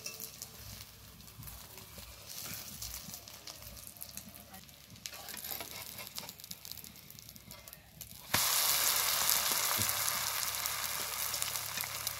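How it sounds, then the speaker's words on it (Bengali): Egg and noodle batter, spread flat like a roti, fries in a pan over a low flame with a soft, steady crackling sizzle that suddenly grows louder and hissier partway through. "এবারে উনুনের আঁচটা হালকা আছে, এটাকে ভাজতে হবে।"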